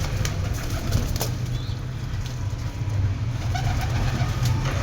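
Pigeons coo softly nearby while wings flap in short bursts, with a steady low rumble of traffic in the background.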